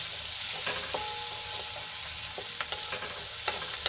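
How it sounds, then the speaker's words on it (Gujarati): Onions sautéing in hot oil in a pan for a homemade pizza topping, a steady soft sizzle with a few light scraping and stirring clicks, close and alone with no voices. "અહીંયા સૌપ્રથમ આપણે પહેલાં ડુંગળીને સાંતળી લેવાની છે। તો ડુંગળીને આપણે સરસ રીતે તેલમાં મિક્સ કરીને એને આપણે સોફ્ટ થવા દઈશું।"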